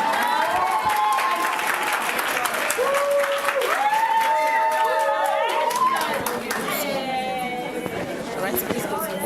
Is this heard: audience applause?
yes